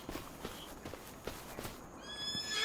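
Faint hooves clip-clop in the Farming Simulator 25 video game, then a horse's neigh rises near the end, with quiet background ambience and no talking.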